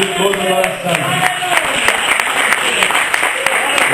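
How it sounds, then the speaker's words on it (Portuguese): Steady applause from a church congregation, dense clapping filling the space with talk running faintly underneath. "E aplauda a Ele"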